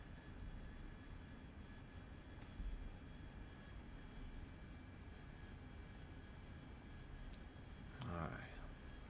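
An AV-8B Harrier jet in the DCS flight simulator drones with a steady, dull engine roar throughout, with a brief swell near the end.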